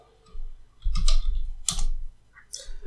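Computer keyboard typing in short bursts of clicky keystrokes, close and fairly quiet, with pauses between the clusters of taps.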